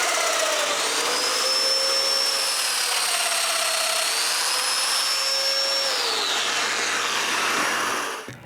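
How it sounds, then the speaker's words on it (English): A power tool drills mortises in wood for a bathroom vanity, a loud, close whine that shifts pitch through several plunges before spinning down at the end, no voices. "Next, I mark and drill the mortises"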